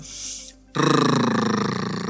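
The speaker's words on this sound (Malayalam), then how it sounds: "ടങ് ട്രിൽ എന്ന് പറയും" A person performs a tongue-trill vocal exercise, a loud, sustained rolling buzz with a rapid flutter that starts abruptly after a brief softer sound and runs to the end.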